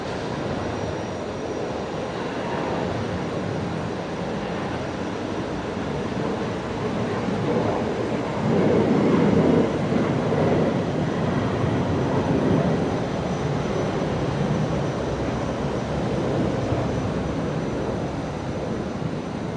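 An airliner departing runway 01 right at Brisbane Airport, heard from a distance as a broad steady jet roar that swells in the middle and holds, with no voices over it.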